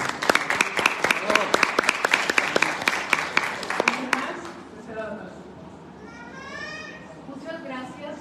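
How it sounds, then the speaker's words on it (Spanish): Audience applause at a community talk: a burst of sharp, distinct claps from a modest crowd for about four seconds, then quieting into room murmur and a speaking voice. "Un aplauso para Ishtik."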